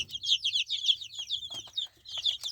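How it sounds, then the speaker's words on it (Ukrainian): Young chicks cheep rapidly and continuously up close, a busy chorus of high, thin peeps. "Ось такі курчата наші."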